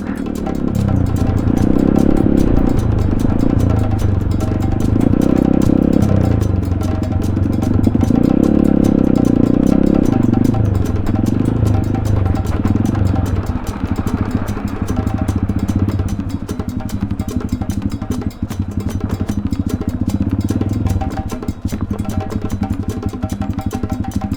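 A small scooter engine droning steadily while riding a rough road, with rattling and clattering jolts from the bumpy surface throughout.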